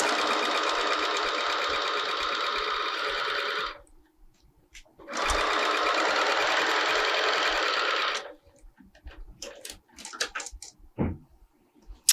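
A sewing machine stitches the seams of a pillow front panel in two long, steady, loud runs, with a short pause between them, followed by faint clicks and handling noises.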